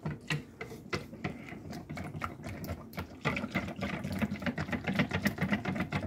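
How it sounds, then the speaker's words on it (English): A whisk beats protein powder into wet ingredients in a bowl, giving quick irregular clinking and scraping strokes that grow busier and louder partway through. "I just want to whisk it into my wet ingredients just to avoid any clumps."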